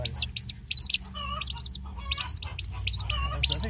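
Many baby chicks and chickens clucking and chirping nearby in a busy, overlapping chorus, sharp high calls repeating throughout with no talking.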